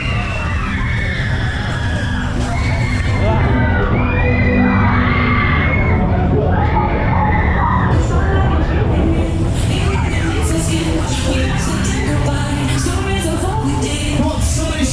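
Riders on a David Taylor waltzer at the Kendal Fireworks fairground scream and shout together, a loud, sustained crowd din of overlapping shrieks and yells that never lets up.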